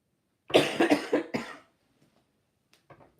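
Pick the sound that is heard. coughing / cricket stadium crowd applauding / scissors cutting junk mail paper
coughing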